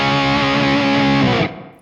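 A distorted electric guitar through an IK Multimedia TONEX Plug amp model, flanger off, rings out with dense, steady harmonics and no wavering modulation, then cuts off sharply and decays near the end.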